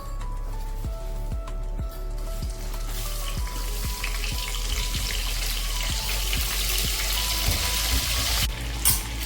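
Stuffed brinjal and potatoes going into hot oil with asafoetida for a Kathiyawadi curry, giving a loud, steady sizzle with a regular ticking of spatters, close to the pan.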